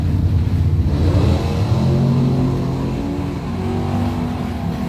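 Drag racing cars, a Ford and a Mopar, roar down the strip in a bracket final round. The loud, sustained engine noise runs throughout with no talk over it.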